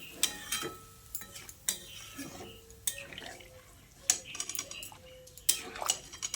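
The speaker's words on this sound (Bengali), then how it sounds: "জলটা দিয়ে কচু আলুর সঙ্গে ভালো করে মিশিয়ে নিচ্ছি" Taro and potato curry with added water is stirred in a pot, with repeated metal clinks and scrapes of a spoon against the vessel over a soft watery background, heard close up in an irregular rhythm.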